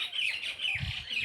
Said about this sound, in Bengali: পাখিটা কোথায় কিচির কিচির করছে সেটাই তো বুঝতে পারছি না